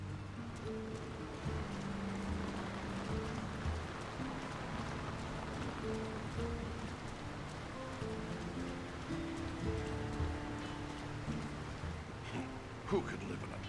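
Steady rain falling on a town in the game Lord of the Rings War in the North, a soft continuous patter with low tonal sounds underneath, fairly quiet throughout.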